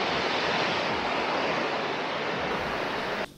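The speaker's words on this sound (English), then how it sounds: "now I'm gonna take some close-up of that waterfall" A waterfall heard up close, a dense, loud, steady rush of falling water that fills the whole span before cutting off abruptly at the end.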